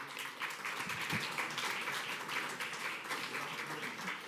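Steady applause from a crowd after a string ensemble's performance, a dense wash of clapping at moderate distance that continues throughout without any talking.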